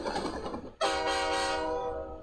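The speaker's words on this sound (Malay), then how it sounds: "Jadi dia akan ada bunyi train" Train passing with a loud horn blast that cuts in sharply after a brief rumble, then holds steady and bright with rail clatter beneath it, heard close and alone.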